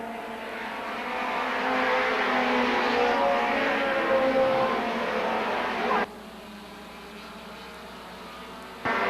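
Race cars at Seekonk Speedway drone in a loud, sustained pack that builds and then drops sharply as they pass, leaving a quieter distant engine hum until another surge returns at the end.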